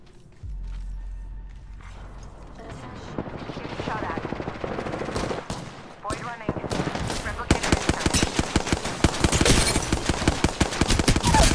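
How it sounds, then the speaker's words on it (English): Heavy gunfire in Apex Legends, dense bursts of automatic weapon fire with sharp overlapping shots that grow busier and louder toward the end over a low rumbling game background. "Getting shot at."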